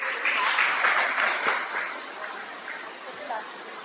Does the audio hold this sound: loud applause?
yes